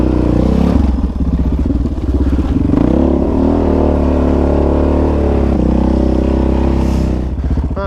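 A dirt bike engine running while riding a ridge trail at Lakeview OHV Park, loud and close throughout, a steady throaty drone with rising and falling revs and clattering over rough ground.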